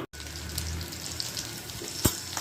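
Water poured into a bowl of mashed potato and egg mixture for cutlets, a soft continuous trickle close by against faint background hiss, ending with a small clink, with no talking.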